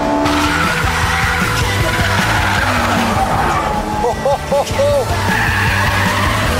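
Tires of a Mugen Honda Civic RR squeal and skid as the car slides sideways, a loud sustained screech over engine roar with wavering pitch, briefly breaking up near the end.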